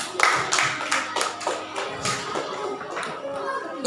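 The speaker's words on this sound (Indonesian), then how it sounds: "Tepuk tangan untuk kelompok." A group of students in a classroom gives a short burst of applause, several pairs of hands clapping fairly close and loud for a few seconds.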